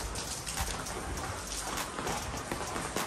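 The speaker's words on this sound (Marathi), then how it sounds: "बघा किती पाऊस थांबला, कमी झाला." Steady rain falling outdoors during a monsoon day, a continuous broadband patter on surfaces with scattered louder drops, close and even throughout with no talking.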